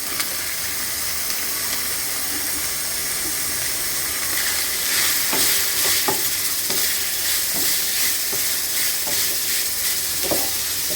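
Onions sautéing with ginger and garlic in a pan give a steady, loud sizzle and hiss, with occasional scraping stir strokes in the second half.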